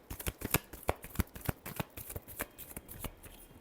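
Tarot cards are shuffled in quick, rhythmic riffles and soft slaps, a close, steady stream of crisp papery taps with no voices over it.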